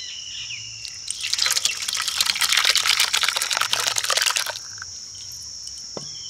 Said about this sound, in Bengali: জল সমেত ছানাটাকে এবারে আমি ওই কাপড়ের মধ্যে ঢেলে নেব।